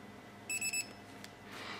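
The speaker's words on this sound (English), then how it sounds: "I'm gonna take my low voltage alarm, and I'm gonna plug it into one of the balance connectors on the battery." A low voltage alarm plugged into the balance connector of an e-bike battery gives three short, high electronic beeps in quick succession, fairly quiet, followed by a faint click and background hiss.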